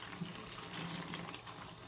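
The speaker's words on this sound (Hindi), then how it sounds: "जिस पानी में भिगोई थी वो मैं साथ ही डालने लगी हूँ" Soaking water pours steadily into a pot of cooking daal gosht, a soft continuous splashing gush, fairly quiet and close, with no talking.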